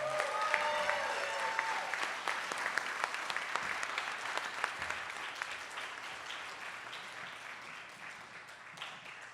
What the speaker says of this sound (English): One more round of applause for the Night of Hope Big Band!